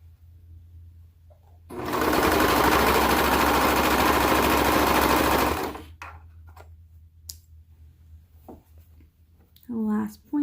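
Sewing machine stitching footie leggings runs in one continuous loud burst of rapid needle chatter for about four seconds, then stops, followed by small handling clicks and a brief voice near the end.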